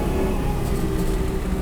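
An LS V8 engine swapped into a Subaru BRZ sustains a loud, thick droning tone with strong low harmonics, heard briefly and steadily without any voices.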